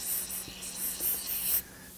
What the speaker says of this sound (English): we can spray them down liberally